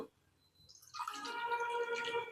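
Water is poured into a cooking pot for rava pongal. After a quiet start it becomes a steady, close splashing pour that runs without a break to the end.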